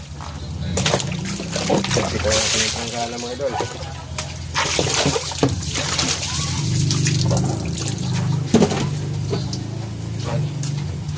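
Rinse water splashes and trickles into a container amid handling clatter during hand laundry, while a person talks over it close by.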